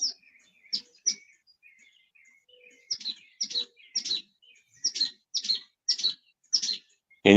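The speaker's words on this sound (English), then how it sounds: "I hear the mockingbird. That's a mockingbird, yeah." A mockingbird runs through its repertoire in short, bright phrases that repeat in quick bursts, with brief pauses and a few softer notes between them. It sings clearly and alone against a quiet background.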